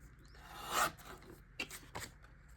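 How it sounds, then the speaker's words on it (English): Paper for a scrapbook layout is trimmed with a few short rasping cuts and scrapes. One louder stroke comes early and two quieter ones follow. The sounds are faint, close by and have no talk over them. "I am trimming off just 1/4 inch as well"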